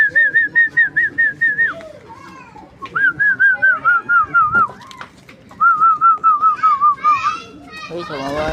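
Pigeons coo on a roof, with repeated cooing and whistling calls in several bursts, close by, mixed with children's voices and chatter.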